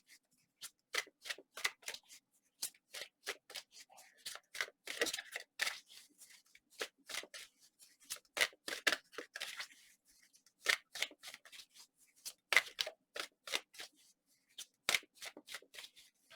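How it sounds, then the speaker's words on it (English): Tarot cards shuffled by hand: quick crisp riffles and soft slaps in uneven bursts, close and fairly quiet, with short pauses between, and no talking. "If you ever feel the need to fast forward through the shuffling, please feel free to."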